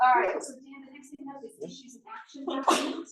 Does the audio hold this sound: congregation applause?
no